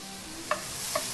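Onions and Philadelphia cream cheese cook in a frying pan, a steady low sizzle with two quick stirring scrapes, close by and with no talking.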